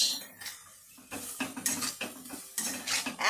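Powdered spices (turmeric, chili, black pepper) sautéed in a pan for a broccoli fry, heard as repeated clinks and scrapes of a utensil against the metal pan with a light sizzle underneath, close by and without talk.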